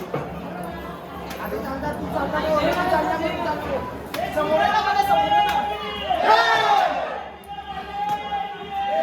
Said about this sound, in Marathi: आपाट अशी गर्दी